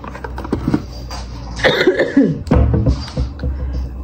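A person with a week-long cough coughs in a few rough, close bursts in the middle of the stretch, surrounded by steady low background noise indoors.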